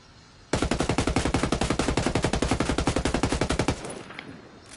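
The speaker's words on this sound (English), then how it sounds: "Alright, so let's check out these guns. We'll do the AUG first." An AUG assault rifle fires in Ghost Recon, one sustained full-auto burst of about three seconds with evenly spaced rapid shots, loud and close, then a short fading tail.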